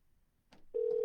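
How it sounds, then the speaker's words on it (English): After a brief click and rustle, a steady telephone dial tone starts and holds, a clear continuous hum close to the earpiece. "Yeah, we got dial tone."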